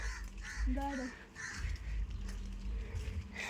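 A crow caws a few times in the distance over low background rumble and faint voices.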